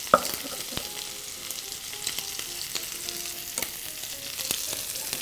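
Shrimp fry in a pan with a soft, steady sizzle and a few light clicks and taps from utensils. The sound is quiet and constant, with no voices.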